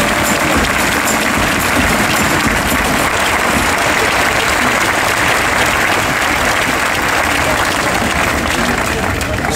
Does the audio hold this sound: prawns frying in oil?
no